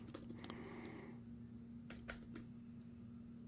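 Typing on a computer keyboard, a quick burst of soft key clicks near the start and another short cluster midway, faint and close, over a steady low hum with no talk.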